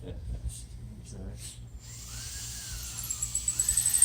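A high-pitched power drill whines steadily while drilling through a guitar body, its pitch rising as it bites in, with a rapid chattering pulse building toward the end; faint talk early on.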